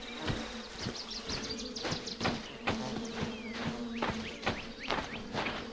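Stinging bees in a video game swarm with a dense, close buzzing drone, punctuated by rhythmic clicking hits and small whizzing sounds, no voices.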